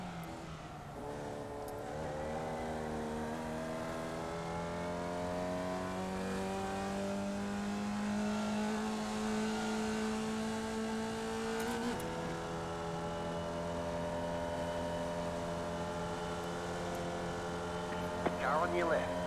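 Formula Vee open-wheel race cars lapping Oulton Park in iRacing, a steady droning engine tone with rising and falling pitch as a car shifts and revs, close and continuous, with someone talking over it.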